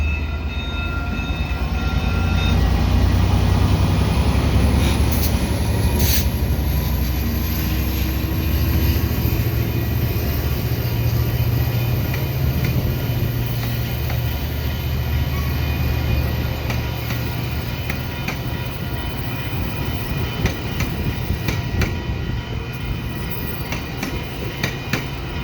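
An EXO commuter train rolls through the Sainte-Rose station in a long, steady pass, its low rumble loud and close with rhythmic wheel clatter over the rails and a thin high whine above.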